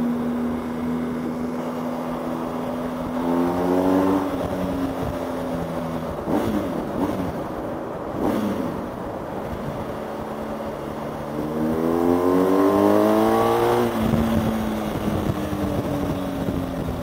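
A BMW GS 1250 motorcycle engine on the move, a steady drone with two clear rising revs as it accelerates through the gears, loud and close with wind rush and no talking.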